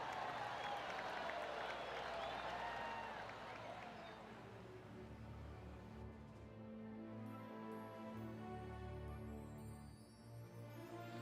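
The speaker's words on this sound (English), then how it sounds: "Sometimes you've just got to stand and applaud." A golf gallery at a PGA event applauds a winning putt, a broad wash of clapping that swells at the start and then thins out, heard faintly and from a distance, with a low tonal hum lingering beneath.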